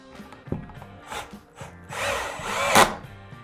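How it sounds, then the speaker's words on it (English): A power driver sends fasteners into a wooden wall stud of a shed, with a couple of short whirring bursts and knocks, then a longer rising buzzing drive close by, with no talking. "then we drive the fasteners"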